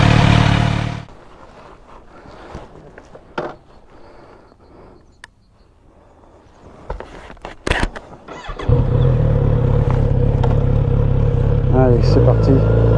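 A Kawasaki Z900 RS motorcycle sits through several seconds of quiet, scattered handling noises, then its engine fires and settles into a loud, close, steady thrum as it pulls away.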